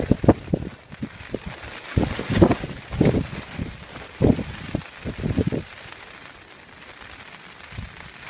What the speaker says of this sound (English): It's absolutely pissing down.